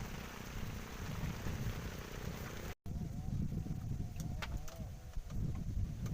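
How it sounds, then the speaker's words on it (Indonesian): Steady rain falls while someone fishes outdoors, a broad hiss of drops on water and surfaces filling the scene, with a few sharper splashes and a brief dropout partway through; people talk over it. "Hujan dulu, hujan."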